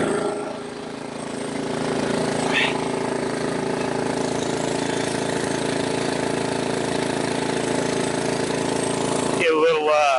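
Toro snow blower engine running steadily at close range, a continuous mid-pitched rumble throughout with brief mechanical clatter near the end.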